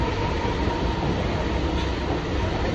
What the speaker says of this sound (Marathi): ट्रेनमध्ये बसतोय फायनली